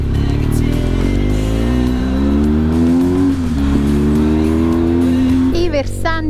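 Motorcycle engine held high and revving steadily through hairpin bends taken in first gear on a mountain road, with a sustained droning note that rises slightly, dips briefly and climbs again, under a voice.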